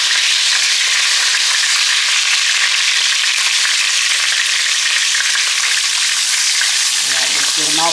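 Steady, bright sizzling of food frying in a hot pan, a dense crackling hiss throughout with a faint voice near the end.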